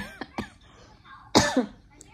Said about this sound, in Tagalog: Pero umuubo pa rin ako here and sa labas.